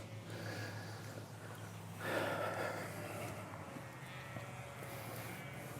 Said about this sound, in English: The sheep are angry.